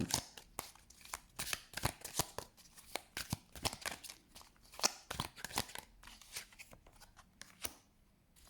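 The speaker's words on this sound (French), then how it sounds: "J'avais quand même envie d'aller chercher une carte ou deux de tarot." Tarot cards are shuffled and drawn: a dense run of quick riffling snaps and papery slides, close and fairly soft, continuing steadily for several seconds before easing off.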